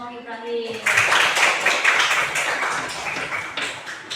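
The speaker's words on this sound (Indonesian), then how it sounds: "Lihat tepuk tangan kelompok Ibrahim." A group of schoolchildren in a classroom clapping together, a burst of dense close applause lasting a few seconds and trailing off, with a voice speaking just before it starts.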